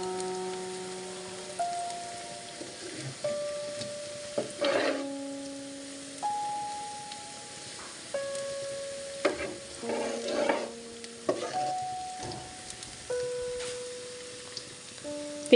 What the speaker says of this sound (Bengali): পেঁয়াজগুলো এপাশ থেকে ওপাশ ভালো করে নেড়ে ছেড়ে ভেজে নিচ্ছি।